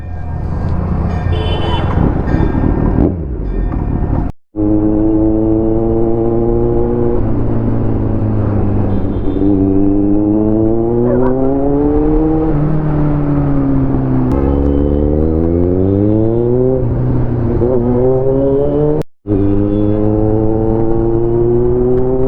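Motorcycle engine, a Triumph Daytona 675 or Kawasaki Z900, revving hard while being ridden: loud rising and falling engine whine climbs through the gears with two brief cuts between shifts, steady and close throughout.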